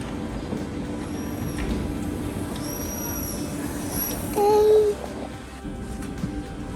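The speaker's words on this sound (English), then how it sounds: "So the train just left." A steady low rumble of a moving train with faint squeals and a brief tonal whine midway, heard from inside, no clear speech.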